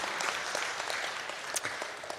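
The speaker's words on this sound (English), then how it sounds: "give her a round of applause" An audience at a First Nation gathering applauds a retiring staff member with steady, dense clapping heard from a moderate distance, continuous throughout.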